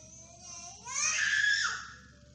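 A person screams in the background, a high, strained cry that rises and peaks loudest in the middle before trailing off, with no talk over it.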